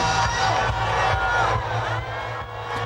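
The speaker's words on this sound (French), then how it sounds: "Des cris de victoire, des cris de délivrance" A crowd at a religious gathering shouts cries of victory and deliverance, a loud sustained mass of voices swelling and whooping throughout.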